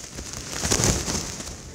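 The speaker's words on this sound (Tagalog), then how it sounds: "malakas na ulan at hangin na dala ng Bagyong Uwan" Dense, steady rush of heavy rain with gusting wind from Typhoon Uwan in Dagupan City, Philippines, swelling briefly in the middle; loud and close, no voices.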